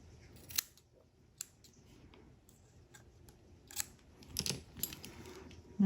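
Scissors snip a cotton wick for a Steamcrave Aromamizer Supreme V3 RDTA vape, giving a few sharp, close clicks spread over several quiet seconds with no talking.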